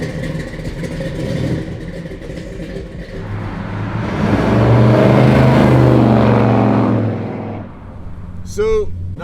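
A 1971 Chevrolet Chevelle SS convertible with a 454 cubic-inch V8 rumbles nearby, swelling into a loud, deep rev as it pulls away, then easing off; a voice talks over the early part.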